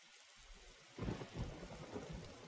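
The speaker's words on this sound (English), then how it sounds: "Can I wait inside for the storm to pass?" A thunderstorm with rain in the video game Nightmare Frames: steady rain hiss with a deep rolling thunder rumble swelling up about a second in, close and full, no voices.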